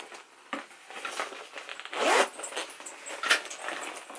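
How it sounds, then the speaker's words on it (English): The rear zipper of a Louis Vuitton bumbag is pulled open in several quick, close, raspy strokes, loudest in one longer drag midway. "The zipper seems pretty easy to open."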